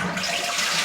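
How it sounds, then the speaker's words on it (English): A full toilet flushing at a cottage under renovation, a short, loud rush of water that fills the whole clip with broad hissing noise and no voices. "there's a pretty full toilet here, and he said it should flush"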